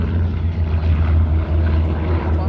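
Propeller drone of a WWII warplane making a pass at the Wings Over Illawarra airshow, a loud, steady low engine roar holding throughout with slight swells, no voices.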